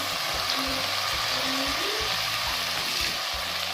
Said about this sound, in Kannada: ಟೊಮೆಟೊ ಸಾಫ್ಟ್ ಆಗೋವರೆಗೂ ಚೆನ್ನಾಗಿ ಫ್ರೈ ಮಾಡ್ಕೋಬೇಕು